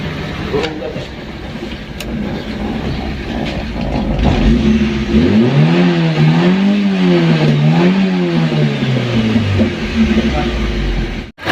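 A 1988 Toyota Starlet engine idles, then revs up and down in two rising-and-falling sweeps before settling back to a steady idle, loud and close, with no talking.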